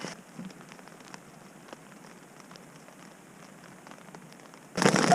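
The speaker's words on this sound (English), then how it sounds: "The rain storm has set back in after a brief spell of sunshine." Rain patters steadily on a tent during a storm on a solo hike along the Hayduke Trail, a soft, even hiss of drops close by, then a sudden louder burst of heavier rain or hail at the end.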